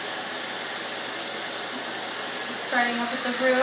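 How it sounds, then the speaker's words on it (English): A hair dryer set to high heat and high speed roars steadily and loudly throughout while drying hair from the root; a voice talks over it near the end. "using high heat and high speed with the hair dryer"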